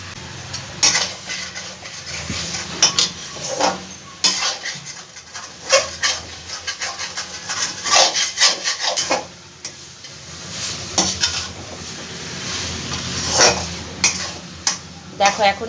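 Potatoes being stirred and fried with spices in a pot for a raw-banana kofta curry, with a busy run of scraping, clinking spoon-on-pot knocks and light sizzle heard up close and fairly loud throughout.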